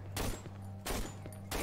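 Two or three sharp, heavy gunshots from a handgun in the horror game Cry of Fear, spaced about two-thirds of a second apart, each a loud broadband crack over a steady low hum with no talking.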